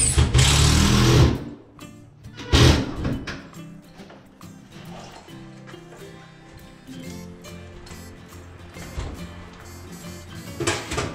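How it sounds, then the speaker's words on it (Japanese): A screwdriver drives screws to fix a range hood in an apartment kitchen, opening with a loud whirring burst, a second short burst, then quieter clatter and rattling. "今、ドライバーで仮にねじ込んで、で今本締めしています。"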